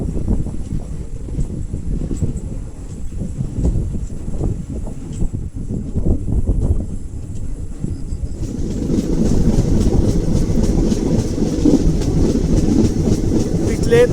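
A Latur–Mumbai Superfast Express passenger train runs along the rails with a steady loud rumble and clatter, louder and brighter in the latter half, with wind noise over the microphone.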